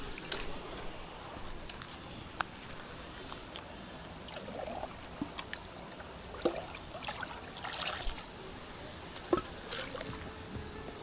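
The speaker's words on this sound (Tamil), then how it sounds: "அரிசி நல்லா கழுவேணும் மச்சான்." Rice being rinsed in river water, with soft trickling splashes and light sloshing repeated across the span over quiet outdoor ambience, no talking.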